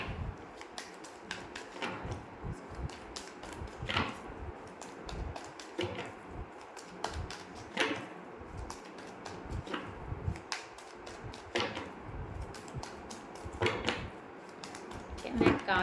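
Tarot cards being drawn and shuffled by hand, a run of soft close taps, slaps and rustles at an irregular rhythm, quiet and near, with a voice speaking between them.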